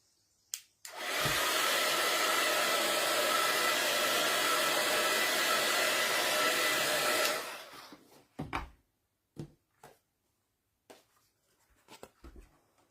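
A hair dryer roars steadily and close for several seconds as it dries painted masking on a garden boot, then cuts off, followed by light taps and handling noises.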